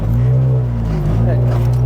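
A 1995 Honda Civic with a B16 engine pulls under acceleration, a loud, steady low engine and exhaust drone heard from inside the car, with people talking over it.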